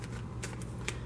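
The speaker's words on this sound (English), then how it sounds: "so I'm going to go ahead and shuffle it now." A tarot card deck is shuffled close by, giving a few short, faint riffling ticks over a steady low background hum.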